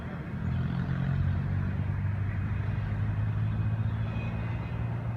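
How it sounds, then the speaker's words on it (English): Slow Norfolk Southern freight train passing nearby, a steady low diesel rumble and drone that swells in after a quiet start and holds throughout. "That's a slow train."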